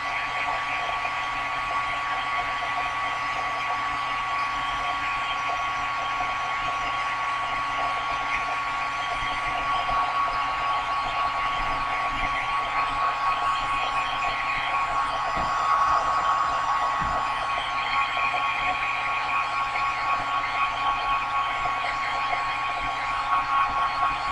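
A heat gun blows hot air to dry a handmade Christmas envelope mini album, a continuous steady whooshing drone with a faint whine that holds unchanged throughout.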